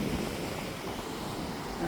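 Steady sea surf rolls along the rocky Kasheli coast near the sunset point, a continuous broadband wash mixed with wind buffeting the microphone, moderately loud with no distinct breaks.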